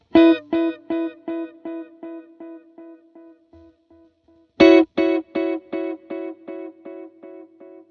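Repeated plucked guitar notes ring out in two bursts, each decaying into a washy, shimmering reverb tail with a gentle wavering modulation.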